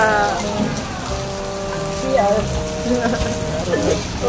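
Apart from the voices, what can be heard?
rain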